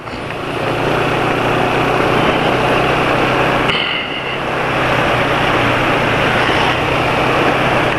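Car engine running on Syneral Synthetic oil, a loud, steady mechanical drone heard close up, with a brief dip in level midway before the hum resumes evenly.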